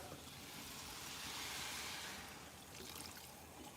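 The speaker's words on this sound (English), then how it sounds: "We're gonna pour in the water and the milk" Water pours steadily into a pot for homemade hamburger helper, a continuous close splashing rush that swells slightly in the middle and then settles, with no talk over it.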